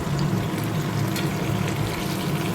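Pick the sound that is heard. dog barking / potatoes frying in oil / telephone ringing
potatoes frying in oil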